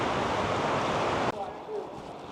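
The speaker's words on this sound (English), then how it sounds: "There's the waterfall right there." Waterfall and river rushing through the lakeside village of Hallstatt, Austria, a loud broadband roar that abruptly cuts to a quieter outdoor ambience with faint distant sounds.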